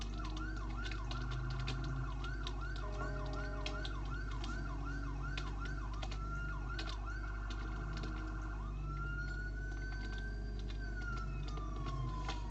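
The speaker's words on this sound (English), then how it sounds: "Whack on the siren controls. There's a new siren sounds." Electronic sirens cycle through different patterns, a rapid yelp followed by a long wailing sweep, over a steady engine drone, no talking.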